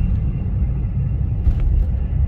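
A low, steady rumble of an aircraft taking off at Pearson Airport, Toronto, heard from a distance, broad and continuous with no talk over it.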